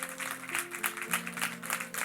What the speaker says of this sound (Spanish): Mientras te paras, sigues aplaudiendo y honramos al Cristo de la cruz.